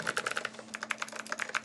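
Rapid clicky, thocky keystrokes on a heavy sheet-metal Saturn 60 mechanical keyboard, close and crisp in an irregular typing rhythm, heard alone.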